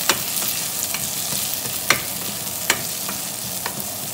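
Onions sautéing in a covered pan for a fish pochero dish, a steady soft sizzle broken by a few sharp clicks and taps.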